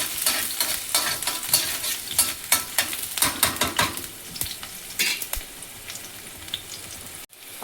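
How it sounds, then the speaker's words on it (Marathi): Chillies sautéing in a hot pan for a home-style fenugreek (methi) bhaji: a crackling fry under a rhythmic scrape and clink of a spoon stirring against the pan, close and lively, then settling to a quieter sizzle. "तर गाईज ह्याला परतून घेऊया. तांबूस रंग येईपर्यंत परतून घ्यायचा आहे."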